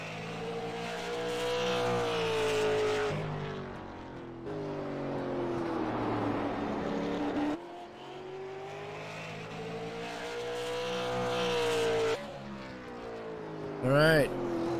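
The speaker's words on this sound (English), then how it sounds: "We're getting set to go green flag racing, folks." Race cars circle the short track at New Smyrna Speedway during the Racecore Gold Cube Series, engines droning and shifting pitch as they pass, mostly under continuous commentary with a brief louder burst near the end.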